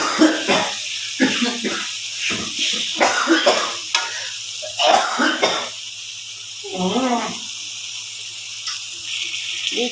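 Minced pork stir-fried and stirred in a pan for Thai roasted chili paste, with scraping, stirring and a light sizzle under a steady hiss, and voices speaking intermittently nearby.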